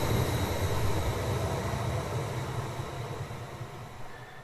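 A train on Norway's Gjøvik Line pulling away toward Gran, a steady rolling rumble and broadband rail noise with faint high tones, heard from the cab and slowly fading slightly, no voices.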